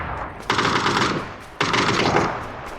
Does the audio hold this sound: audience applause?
no